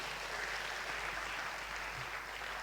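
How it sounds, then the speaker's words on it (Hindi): An audience applauds at a community program honoring donors, with steady, dense clapping that fills the room without a break. "जोरदार ताली इनके लिए"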